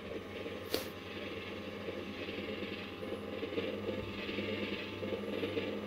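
A Hasbro Pulse Ghostbusters proton pack toy runs with a steady low electronic hum and whirring drone. A sharp click comes near the start, and the sound holds at a constant moderate level throughout with no talking.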